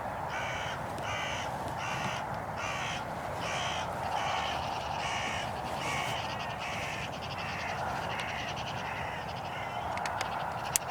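Hooded crows cawing repeatedly in an agitated flock after a 17 Hornet rifle shot, harsh rhythmic caws carrying across an open outdoor setting at moderate distance.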